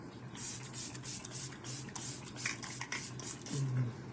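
Makeup setting spray misted in repeated short hissing bursts, a dozen or so quick pumps close to the microphone in a fairly even rhythm, faint and alone without talk.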